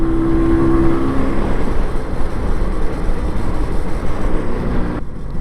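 A 1984 MZ TS125 motorcycle with a Mikuni carburetor revs hard past 6,000 rpm while being ridden, giving a loud, steady engine roar mixed with wind rush, which drops off sharply near the end.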